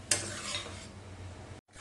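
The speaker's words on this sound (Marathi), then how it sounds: "मीठ घातल्यानंतर कोथिंबीर चांगली परतवून घ्यायची" Coriander stirred in a pan makes a soft, close sizzle with a sharp scrape of the spoon at the start, continuing quietly before a brief cut.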